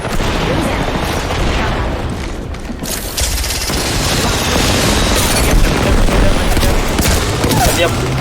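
Dense, continuous gunfire and booming explosions from a combat video game play through a wireless gaming headset, loud and unbroken, with a slight dip near the middle before the barrage resumes.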